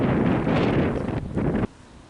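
Wind gusting across an outdoor tennis court, rough, loud buffeting of the microphone for about a second and a half that then cuts off to near silence.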